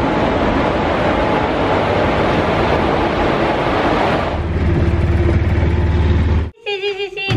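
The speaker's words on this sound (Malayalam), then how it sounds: "ഈ നമ്മുടെ ട്രെയിൻ വന്നു." A train pulls into a railway station with a loud, steady rumbling roar that deepens and grows heavier midway, then cuts off abruptly into a quieter scene with a faint tonal sound.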